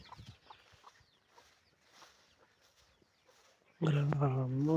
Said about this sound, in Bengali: মুরগির বাচ্চা সকাল সকাল বের হয়ে গেছে খাবারের সন্ধানে